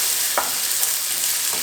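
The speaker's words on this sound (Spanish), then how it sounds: "y los vamos a revolver." Eggs with nopales in red salsa being stirred in a pan over a constant sizzle, with a couple of brief scrapes of the utensil.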